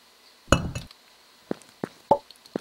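Mining stone in the block-building game Block Story starts with a loud, crisp crack, followed by a series of lighter clinking and plopping pickups spaced out irregularly, all close and clear with no voices.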